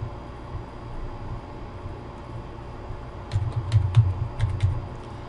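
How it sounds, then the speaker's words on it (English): Keystrokes on a computer keyboard as a PowerShell command is typed, a quick run of close, crisp clicks arriving in the final two seconds over a quiet hum. "I'm going to go ahead and type in the following command"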